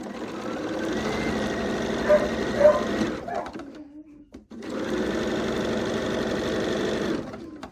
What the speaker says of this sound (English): And then I'm going to pull back all the way and then sew the sashing in.